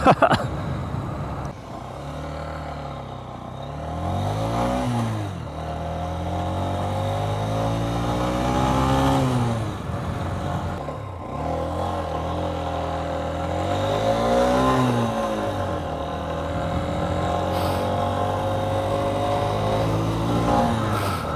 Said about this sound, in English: there is definitely a bog when I snap the throttle open